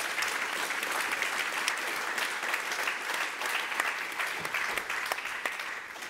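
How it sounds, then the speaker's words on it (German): An audience at an evening lecture on placebos gives steady, warm applause lasting several seconds, heard from within the hall at a moderate level, with no talking over it. "Jetzt bitte ich um einen herzlichen Applaus"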